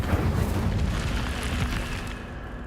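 A fiery Incendio spell cast in a Harry Potter video game, a dense roaring whoosh of flame that fills the moment loudly and steadily before tapering slightly at the end.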